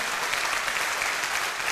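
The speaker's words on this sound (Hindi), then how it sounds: "एक बार दिल से तालियां।" Steady applause from a seminar audience fills the short stretch, a dense wash of many hands clapping at once with no voices over it.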